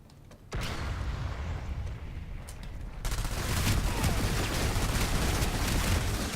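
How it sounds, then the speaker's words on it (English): PlanetSide 2 battle noise, a grenade explosion followed by a dense, continuous roar of gunfire that swells louder midway through, heard alone without voices. "That explosion scared the freaking crap out of me."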